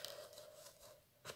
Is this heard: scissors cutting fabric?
yes